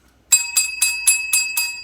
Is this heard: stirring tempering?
no